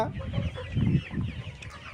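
Layer hens on a small rooftop or backyard farm cluck in repeated low bursts, close and fairly loud, with no talk over them.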